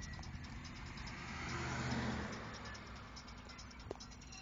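Car driving along the road, a faint steady engine and road rumble that swells briefly as if passing traffic, with no talk.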